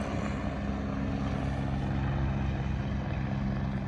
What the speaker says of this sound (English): if that helicopter stays here too long, I may not get much work done